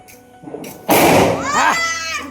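A chocolate bomb firecracker going off during Diwali, a single loud close burst that cuts through faint voices and is followed by people reacting.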